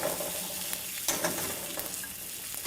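Beef short ribs sizzle and crackle in a hot Dutch oven, a steady close frying hiss with a few sharper pops and spatters, no voices.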